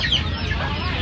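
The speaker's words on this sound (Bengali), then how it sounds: "টোপরওয়ালা মুরগি" Crested chickens at a poultry market in Uluberia give a short, close cluck or squawk at the start, amid market background noise.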